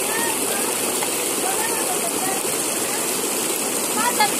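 Water flows steadily at a natural swimming spot in Nuevo Occoro, a constant broadband rush like a stream or small waterfall. It is loud and close, with no clear pauses.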